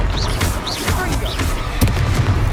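A Confringo fire spell blast in Hogwarts Legacy, a loud fiery boom and crackle among continuous battle noise, with sharp whistling sweeps before a hard impact.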